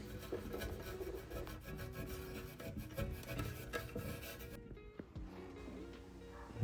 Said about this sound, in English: I'm gonna use some Scotch-Brite right now to get this off right now.